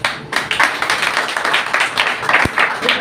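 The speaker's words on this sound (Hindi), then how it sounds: "तो सारी महिमा परमेश्वर को ताली बजा कर देंगे" Congregation clapping hands together during a church Sunday service, a dense, sustained burst of many overlapping claps filling the room at steady loudness throughout.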